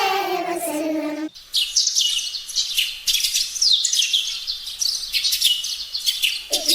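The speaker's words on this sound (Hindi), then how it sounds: "एक चिड़िया बोली चू चू चू" A small bird chirps in a children's nursery song, bright quick tweets repeating in clusters over several seconds after a sung line ends, with the singing returning at the close.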